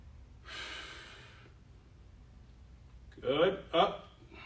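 Sharp breathing during a stick mobility workout: one long exhale, then two quick forceful breaths close to the microphone, with quiet gaps between.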